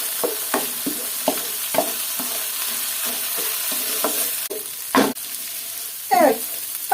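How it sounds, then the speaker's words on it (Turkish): Rice stirred and toasted in melted oil in a pan for a Turkish pilaf gives rhythmic scraping spoon strokes over a light sizzle, close and fairly loud, with a few sharper clanks toward the end. "Pirincini verdik. Şimdi kavuralım."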